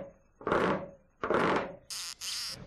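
Beetle and cricket stridulation is imitated by rubbing: two slow, broad rasping strokes, then two short, bright buzzing bursts, close and isolated.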